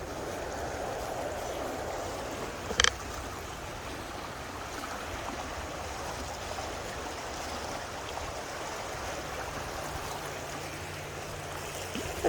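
Heavy floodwater rushes steadily near a swollen creek during moderate flooding, a continuous broad roar that holds even for the whole stretch, with one brief sharp knock partway through.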